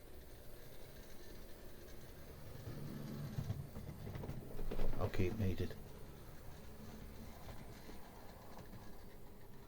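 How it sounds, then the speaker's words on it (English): Mehano model steam locomotive running on a model railway track, a soft rolling rumble with clicking that swells midway as the engine passes close, with someone talking over it. "Okay, so that's the only Mehano steam loco I have."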